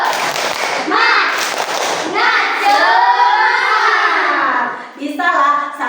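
Children at school do a rhythmic spirit clap, their fast clapping mixed with loud chanting and excited young voices close by.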